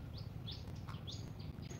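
A pet myna bird gives quick repeated chirps, several short rising notes in a row, faint against a low steady background rumble.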